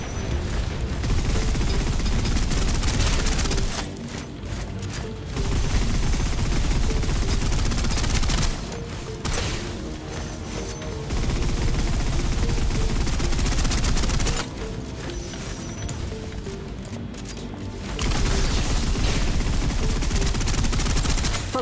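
Sustained bursts of automatic gunfire in the PC game Snowbreak, loud rapid fusillades lasting several seconds each, separated by short pauses, with no speech over them.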